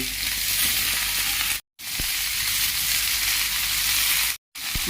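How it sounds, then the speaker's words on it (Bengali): Garlic, onion, cumin, nigella seed and ginger sauté in hot oil in a pan with a loud, continuous sizzle, broken by two brief cuts of total silence. "রসুন পেঁয়াজ এই কটা মশলা ভালোভাবে কষে নেব"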